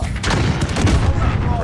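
RPG rocket launcher fired in a first-person shooter on a St. Petersburg domination map, a sharp booming blast with a rumbling tail, close and loud, with a player talking over it.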